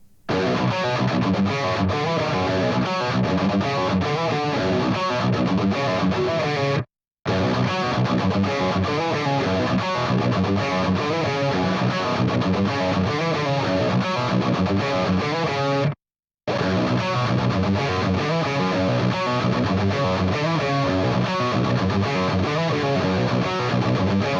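Heavily distorted, compressed metal guitar riffs from a Fractal FM3/FM9/Axe FX 3 amp modeler play loud and dense, broken by two brief silent gaps between passages.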